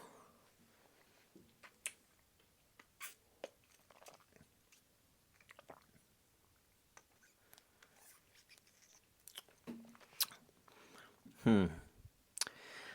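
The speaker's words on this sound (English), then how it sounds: "I'm done chewing on this." Someone chews a lime-flavored Nik-L-Nip wax bottle close to the microphone, giving scattered soft clicks and wet crunchy bites that build to a louder burst near the end.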